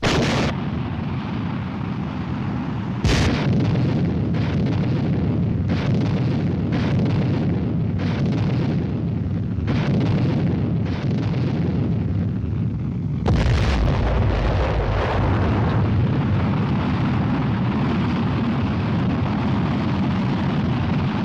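Heavy cannon artillery fire and explosions, a series of loud booming blasts at irregular intervals with one especially big detonation near the start and another after a long gap, each followed by rolling rumble.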